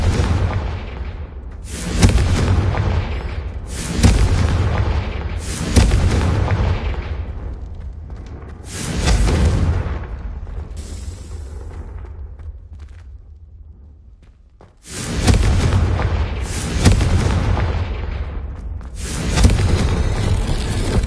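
Confringo blasting spell explosions in the Hogwarts Legacy video game, a series of loud booming blasts in irregular bursts, each with a rumbling tail, separated by brief quieter gaps.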